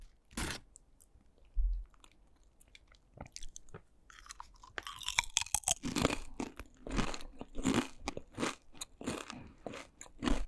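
A spicy nacho snack is bitten and chewed up close, starting with a few isolated crunches and then building into a dense run of loud, crackly crunching bites, with no talking.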